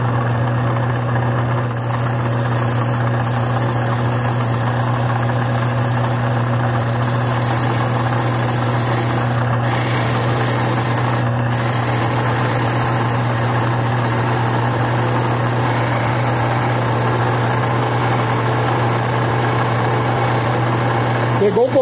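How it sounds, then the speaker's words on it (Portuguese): Bench grinding wheel running steadily while pliers are sharpened on it, a continuous loud motor hum with a steady high whine throughout, with no break. "Agora é só ligar o rebolo e deixar ele trabalhar devagar."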